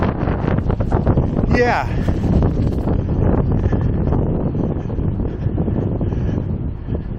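Strong wind buffets the microphone on the seaside boardwalk of the Port of Puerto Madryn, Argentina, a loud, steady roar lasting throughout while a person says a word briefly.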